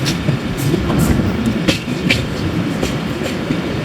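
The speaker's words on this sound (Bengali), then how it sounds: "এই মুহূর্তে আমরা 6 মিনিট বিলম্বে তালমা রেলওয়ে স্টেশন প্রবেশ করতেছি" A train pulls into Talma railway station, loud and near, with a steady rumbling roar, rhythmic clickety-clack of wheels over rail joints and some metallic squeal.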